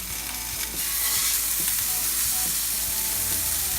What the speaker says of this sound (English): Skillet's good and smoking now. Then put our burger in.